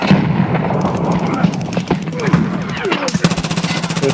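Gunfire and a grenade blast in the Escape from Tarkov shooter game, a loud dense clatter of shots and booms with rapid automatic bursts toward the end.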